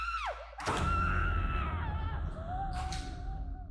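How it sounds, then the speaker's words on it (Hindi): A girl screams loudly indoors, a sustained shrill cry with wavering pitch, then a second strained yell follows, with a short gap and a thump between them. "ये भी ना बहुत चिल्लाने लगी है"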